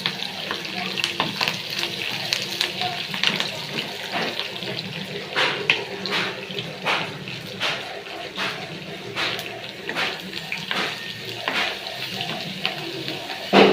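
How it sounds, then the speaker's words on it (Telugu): Garlic, curry leaves and dried chillies frying in a pan for gooseberry pickle: a soft crackling sizzle broken by repeated stirring scrapes and taps, moderately close and fairly quiet. "ఎల్లిపాయలు కొంచెం బాగా ఫ్రై అయ్యేలాగా బాగా ఫ్రై చేసుకొని మిక్స్ చేసుకున్నాం అన్నమాట."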